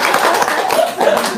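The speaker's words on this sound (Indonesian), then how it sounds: "Tepuk tangan dong." Brief burst of hands clapping at close range, a loose scatter of claps lasting barely over a second, with faint murmuring voices mixed in.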